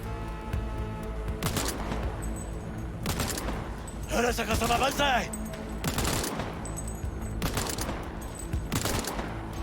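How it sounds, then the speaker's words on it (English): Bursts of rapid automatic enemy gunfire in the Cyberpunk 2077 video game, with repeated fusillades separated by short pauses and a louder, denser volley in the middle, all close and heavy. "now it's trying to shoot at us"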